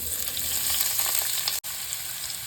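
Loud, steady sizzling of chopped onion and carrot frying in a hot pan, continuous crackle with a brief cut near the end.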